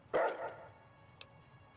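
A single short dog bark rings out in Fallout New Vegas, close and moderately loud, followed by a faint click and quiet background.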